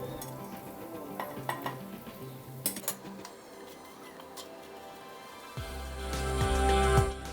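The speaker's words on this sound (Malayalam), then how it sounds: "ഇതിലേക്ക് നമ്മൾ എടുത്തു വെച്ചിട്ടുള്ള മസാലപ്പൊടികൾ ചേർത്ത് ഒന്ന് വഴറ്റി കൊടുക്കാം" Spice powders being sautéed with onions in a pan for Kochi-style catfish curry, a low sizzle with clinks of a spoon against the pan and louder scraping stirs toward the end.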